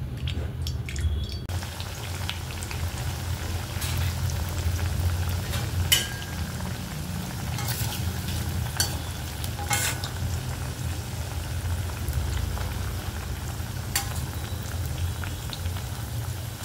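Alu vadi shallow frying in oil in a pan, a steady busy sizzle with scattered sharp pops and crackles throughout, close and continuous with no talking.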